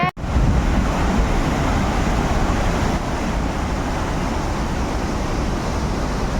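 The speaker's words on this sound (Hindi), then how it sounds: "इस नदी का ये था कि जैसे हम आगे आगे चल रहे हैं ना, बीच में नदी शांत हो रही है और बीच में उग्र हो जा रही है" A mountain river along the Machail Yatra trail rushes with a loud, steady, roaring wash of water that continues without pause, close by and with no voices.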